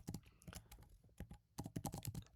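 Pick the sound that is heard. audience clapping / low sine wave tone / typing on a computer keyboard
typing on a computer keyboard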